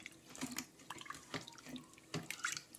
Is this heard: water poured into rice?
yes